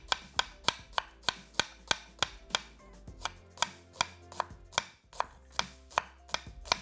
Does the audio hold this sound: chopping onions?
yes